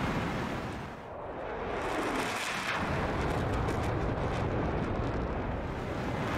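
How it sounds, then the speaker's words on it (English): Heavy, sustained rumbling roar of 750-pound bombs exploding on an airbase runway in DCS World, a dense, loud wash of blast noise that swells after a brief dip and holds steady to the end, with no voices. "they dropped two 750-pound bombs each on it"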